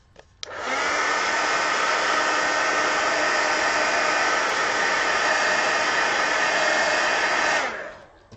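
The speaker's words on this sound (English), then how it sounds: "let me hit that with the heat gun" A heat gun switches on and blows a steady, loud, even whoosh while drying watercolor marker ink, then cuts off and winds down after about seven seconds.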